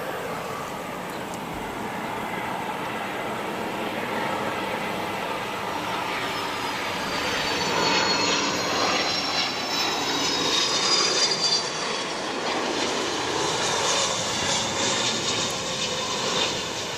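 An airliner passing at Wellington Airport during a mid-afternoon flurry of Dash 8 and A320 traffic, heard as a steady, loud engine roar that swells slightly toward the middle and holds throughout, with no talk.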